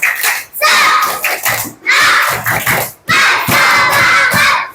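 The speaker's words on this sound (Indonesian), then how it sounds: "Tepuk semangat." Third-grade class of children doing a rhythmic spirit clap in a classroom, several bursts of clapping and chanting voices separated by short pauses, loud and close.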